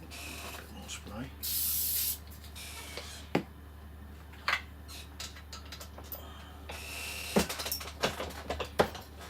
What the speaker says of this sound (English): A bit more spray.